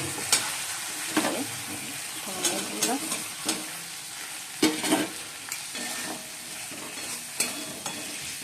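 Spices sautéed in a pan for paneer curry on a home stove, a steady sizzle and frying hiss broken by repeated scraping stirs of a spoon against the pan, close up.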